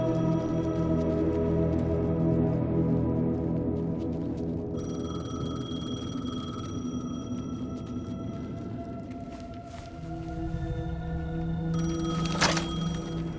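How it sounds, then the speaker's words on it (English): A payphone rings in the video game Alan Wake 2, a bright repeating bell tone over dense, droning game ambience with low rumbling tones throughout. "Payphone was ringing."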